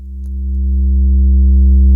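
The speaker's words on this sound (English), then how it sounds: "Now in this little scope you can actually see that we have the sine wave only" A pure low sine tone plays into the Max4Live Origami triple wave folder. It holds steady and unbroken while its level swells gradually over two seconds, with no voice over it.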